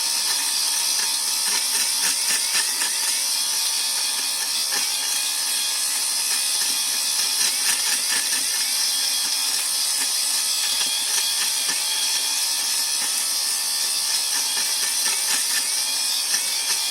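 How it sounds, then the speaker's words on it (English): A flock grinder steadily shaving flock material for scale scenery, a continuous high rasping whir with rapid fine scraping texture, loud and close, without pauses. "And it's actually shaving the material."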